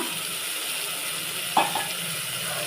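Onions and tomatoes sautéing in a pan for biryani, a quiet even sizzle with a brief utensil knock near the middle, close up and with no one talking.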